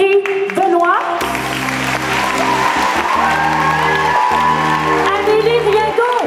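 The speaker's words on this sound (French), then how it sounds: "je vous demande d'applaudir chaleureusement Valérie Benoît," Audience applause at a French-language event, loud and sustained for several seconds under a strong steady musical tone, with crowd noise throughout.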